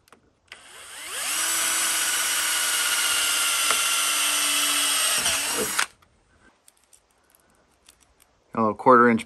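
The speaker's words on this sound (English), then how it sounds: "I'm just going to drill a 1/4-inch hole." A power drill whirs steadily for about five seconds boring a quarter-inch hole in clamped PVC pipe, then winds down and stops; quiet follows, with a brief burst of talk at the end.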